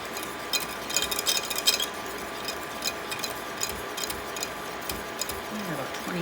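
Pudding is stirred constantly in a pot, a spoon scraping and tapping against the sides in quick, irregular clicks, fairly quiet and close, with no talking.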